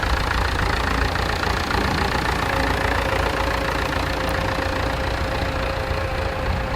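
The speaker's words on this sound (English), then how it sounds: "Lovely looking tractor, isn't that?" A tractor engine idles steadily at a ploughing match, a continuous close mid-low rumble with a faint knocking texture and no voices.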